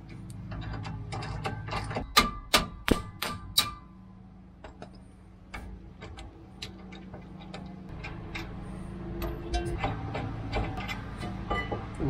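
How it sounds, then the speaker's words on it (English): A ratchet wrench loosening the brake caliper bracket bolts on a Mercedes Sprinter van gives a run of quick metallic clicks and ticks close by, a burst of sharper clacks early on, then steady ratcheting in the background. "we're gonna remove two bolts here"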